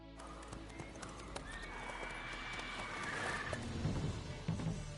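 Roach the horse in The Witcher 3 video game neighing and clip-clopping, a drawn-out whinny over a steady run of hoofbeats, game ambience beneath.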